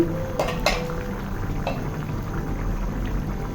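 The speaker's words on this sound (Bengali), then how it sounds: "পাঁচ সাত মিনিট রান্না করার পরে আমি এখন ঢাকনাটা উঠিয়ে নিচ্ছি" A lid is lifted off a pot of pumpkin curry cooking with rohu fish, giving two quick metallic clinks near the start over a continuous soft bubbling simmer.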